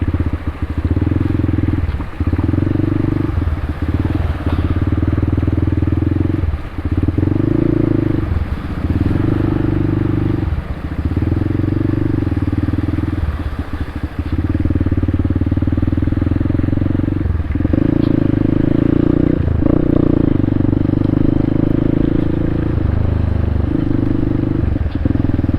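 Scooters and motorcycles ride one after another through a flooded road in Panginay, Guiguinto, Bulacan, their engines loud and close, rising and dipping as each passes, with splashing and clatter underneath.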